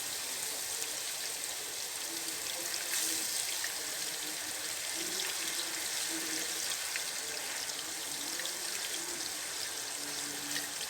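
Blended spice paste sizzles in hot oil for vegetable lodeh with banana blossom, a soft steady crackling hiss with scattered faint pops, continuous and fairly quiet.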